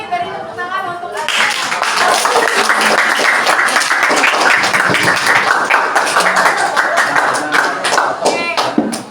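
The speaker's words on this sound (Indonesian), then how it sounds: "Beri tepuk tangan untuk Alia." Eighth-grade students in a science class at a Samarinda junior high school clap for a classmate, a loud, sustained patter of many hands lasting several seconds, with voices talking at the start and scattered through it.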